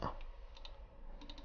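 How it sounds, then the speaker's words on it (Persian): Soft, scattered clicks from typing text, irregular and fairly faint, with a louder thump at the start and low room noise underneath. "چقدر سخته با موز تایپ کردن"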